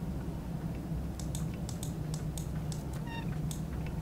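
An invisible pet cat in the video game The Secret World meows in a short series of light, high mews over a low ambient game hum, with a clearer tonal meow near the end.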